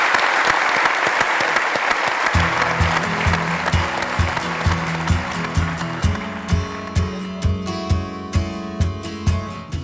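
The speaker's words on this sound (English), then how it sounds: "All I'd like you to do, please, is to show your appreciation of the fantastic man that is Alex McLeish" A podcast audience applauds loudly at a live football interview show, and the clapping carries on as a rhythmic music bed with a steady beat fades in underneath it.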